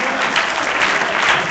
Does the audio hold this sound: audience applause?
yes